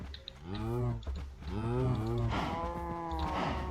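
Cows in a Minecraft cow farm give several drawn-out, overlapping moos in quick succession, loud and close, with no talking over them.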